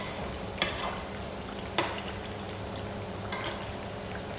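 Plantain pieces frying in a pan give a steady, broad sizzle, with a few sharp clinks of a utensil at intervals and no talking.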